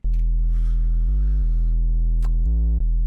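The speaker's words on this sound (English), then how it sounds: "We've got some tube going on this one, on the distortion settings here," A loud, sustained Serum 2 synth bass oscillator with tube distortion drones alone, stepping between a few held pitches over a dark drum and bass bassline patch.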